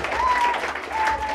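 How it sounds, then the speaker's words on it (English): School audience of children clapping together in a short, dense burst, fairly close and loud, with a brief tonal whistle-like sound over it. "Let us clap for Titus."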